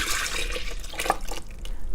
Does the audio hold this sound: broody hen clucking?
no